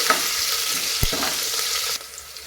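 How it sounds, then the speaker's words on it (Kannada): Chilies, ginger and chopped garlic fry in hot oil, giving a steady close sizzle throughout with a brief clatter near the middle before the sizzle drops a little quieter. "ಇದೆಲ್ಲ ಈಗ ಎಣ್ಣೆಯಲ್ಲಿ ಫ್ರೈ ಆಗಲಿ ಚೆನ್ನಾಗಿ"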